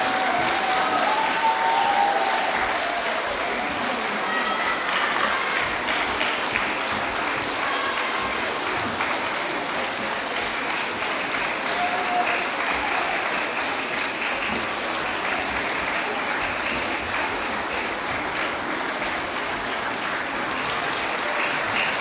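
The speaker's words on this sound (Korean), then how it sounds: "마지막 학생이 나갈 때까지 박수 부탁합니다" Long, sustained applause from a school song-contest audience as the last group of elementary students leaves the stage, a broad steady clatter of many hands that continues evenly throughout without talk.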